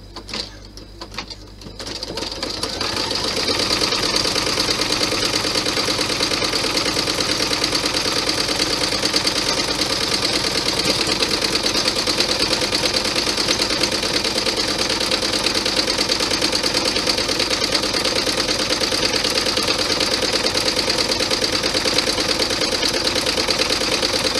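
An embroidery machine sews a bean stitch on vinyl for a clutch bag, its motor starting up and then running as a steady, loud, even mechanical whir with rapid needle clatter throughout.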